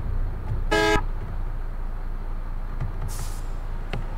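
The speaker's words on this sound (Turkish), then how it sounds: "Man'ın kornasından." MAN-type bus horn giving one short, loud toot close by over a steady engine idle, followed by a hiss of air release and a few faint clicks.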